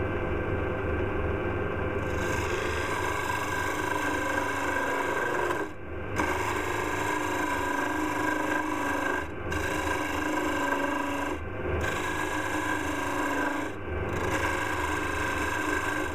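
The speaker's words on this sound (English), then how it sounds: "I will just use this skew chisel to take the wood down to that depth that I've set there" Skew chisel cutting wood on a lathe, a steady close rasping hum from the spinning workpiece broken by four brief pauses as the tool lifts away.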